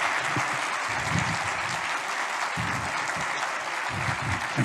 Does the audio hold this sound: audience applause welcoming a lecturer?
yes